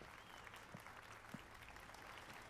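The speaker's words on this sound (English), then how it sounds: "Okay, now everybody else is clapping." A crowd applauds inside a tavern inn in The Witcher 3, a steady dense wash of clapping held at a moderate distance with no break, faint and reverberant.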